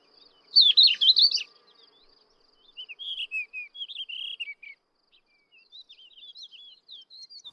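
Bright, scratchy song of subalpine warblers and thekla larks in Spain in spring, in quick bursts, a rapid chattering phrase followed by short whistled notes, clear against a quiet background.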